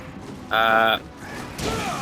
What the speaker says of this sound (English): I still have to pick up these handgun ammo units, and these machine gun units too